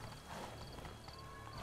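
A horse in The Witcher 3: Blood and Wine whinnies over a steady clip-clop of hooves, close and fairly quiet, with no one talking.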